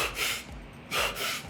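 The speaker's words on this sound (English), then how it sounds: "simply a deep breath, right? And then a controlled, fast exhale, but a quick inhale right after" Breathing drill for handstand training: a deep breath, then a forceful, controlled exhale and a quick sharp inhale, heard as close, breathy bursts in two clusters with no talking.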